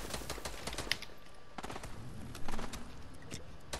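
Shotgun blasts from the video game Fortnite ring out in a busy stream of gunfire, with several sharp reports and a louder burst near the end over constant background game noise.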